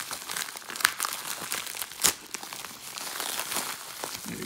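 Plastic wrapping on a cigar package is torn and crinkled open by hand, a steady close crackling rustle with a couple of sharper rips, no voice.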